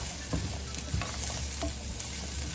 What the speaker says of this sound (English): So I'm just gonna keep tossing this around here until it cooks down and the oil gets tossed with the garlic.